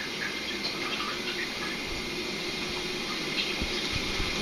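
Water runs and drips as a wet plaster bandage soaked in warm water is squeezed out by hand, a steady close trickling splash with a few soft drips.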